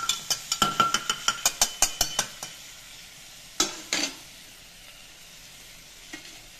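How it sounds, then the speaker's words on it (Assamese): A quick series of sharp metallic clinks from stirring in a hot pan of fried food, then hot water poured in sets off a loud hissing burst of sizzle that quickly dies away into near silence. "এই গৰম পানী দি দিম ইয়াত।"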